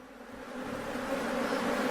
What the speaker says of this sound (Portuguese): Ele diz que existe uma colmeia de abelhas agressivas ali perto e desconfia que pode ser uma colmeia de abelhas